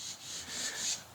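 A drill bit hand-carves around the outer edge of an aluminum scale on an Alox Swiss Army knife, giving a steady, close scraping and rasping rub that swells and fades over about a second, with no talking.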